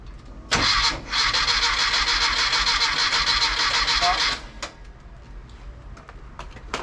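Rebuilt car engine cranking briefly, then catching and roaring loudly for a few seconds before cutting out, heard close up with a quieter background afterward.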